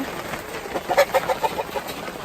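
Backyard hens and a rooster kept for laying eggs cluck in a short burst of several quick, mid-loud calls close by, outdoors on a rainy day.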